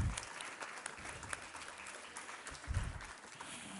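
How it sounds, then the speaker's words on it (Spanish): An audience at a school music achievement day applauds the children who performed, a fairly soft, steady patter of clapping with a few low thumps. "Un aplauso para los niños que ya se han presentado."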